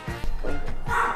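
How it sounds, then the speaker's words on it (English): A dog barks a few times in close succession, loud and near, with short yips between the barks and no talk over it. "I'll wait till Marbles is done barking"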